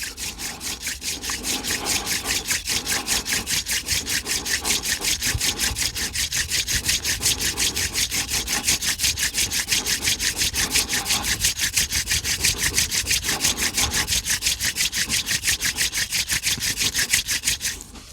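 Steady rapid wooden friction scraping of a hand drill spun for fire-making, a rhythmic back-and-forth rubbing that continues without pause for a long stretch, close and fairly loud.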